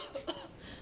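One short, soft cough from a sick woman playing the patient in a Spanish-language doctor skit. It is a brief single burst, fairly quiet and close, with no other sounds around it.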